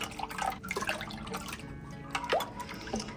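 Cold water poured into a bowl of dissolved Jell-O mixture, a brief splashing trickle with a few drips, close by and fairly quiet over faint kitchen background.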